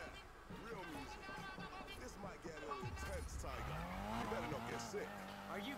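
A Ford Focus RS drifts in the racing game Need for Speed Payback, its engine roaring alongside rising and falling tire squeals, with voices chatting over the game audio.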